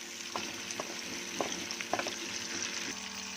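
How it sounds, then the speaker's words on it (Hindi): Onions fry in a karahi for a white chicken karahi, giving a steady close sizzle broken by a few sharp stirring scrapes and clacks, with no voices. "प्याज को अच्छे से ब्राउन करना है, ज़्यादा जलाना नहीं है।"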